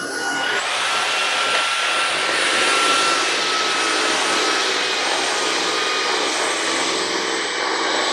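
A Shark Detect cordless vacuum (IW4625) runs at its highest speed on carpet, a loud, steady high-pitched whine and airy roar holding unbroken throughout at close range, with no talking over it.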